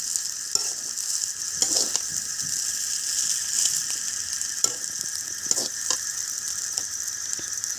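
Chow mein frying in a pan, a steady bright sizzle throughout with recurring scraping clicks from stirring, close and fairly loud, no talking.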